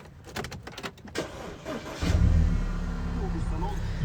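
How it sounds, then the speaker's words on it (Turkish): An Audi A4 2.0 TFSI Quattro engine cranks and catches about halfway through, settling into a loud, steady exhaust drone after some shuffling and handling noise. "Bir egzozun sesini duyabilirsek çalıştırayım."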